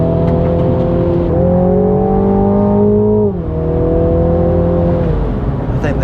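A Mini GP3 race car on track at Donington, its engine loud and close, droning steadily as it accelerates, with a brief dip and shift in pitch partway through before climbing again.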